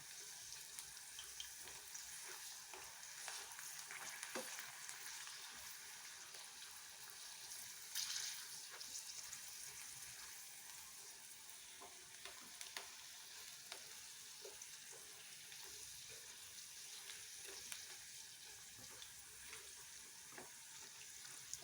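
Pieces of taro frying in hot oil over a lowered flame give off a steady, close sizzle that runs the whole time, with scattered small pops and crackles and no voices.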